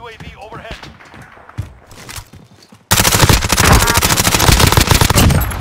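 Gunfire in a first-person shooter video game: scattered shots and game sounds at first, then a sudden loud, sustained burst of rapid automatic fire that runs to the end.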